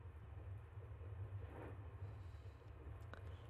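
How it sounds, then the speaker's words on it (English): Low, steady rumble of a moving train in the video game Omori, a continuous rolling drone with a faint clunk near the end and no voices. "The train is moving."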